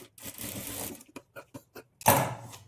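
Sewing machine stitching padded blouse fabric, a burst of running stitches, then a series of short stop-start pulses, and a final louder burst of stitching, close and clear.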